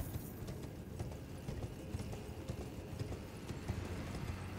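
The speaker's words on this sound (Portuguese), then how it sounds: "Acabou a caminhada do cavalo." Horse hooves clip-clop steadily while riding in Elden Ring Shadow of the Erdtree, a continuous close rhythm of footfalls over game ambience with no talk.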